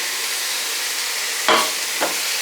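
Steady broadband sizzle of two pounds of ground beef frying in a pan, with two brief louder scrapes or stirs partway through.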